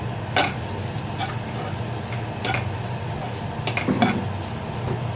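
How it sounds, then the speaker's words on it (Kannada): Curry leaves and greens fry in a hot pan with a steady close sizzle, broken by occasional stirring clicks and scrapes of a utensil, with no talking. "ಎರಡು ಚೆನ್ನಾಗಿ ಫ್ರೈ ಮಾಡ್ಕೊತೀನಿ"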